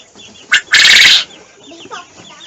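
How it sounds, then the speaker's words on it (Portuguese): Bantam chickens clucking close by on a small farm, a short squawk followed by a loud burst of agitated clucking, then softer scattered clucks. "Eu vou trazer os 2 garnizezinhos que estão com a galinha, com a garnizé."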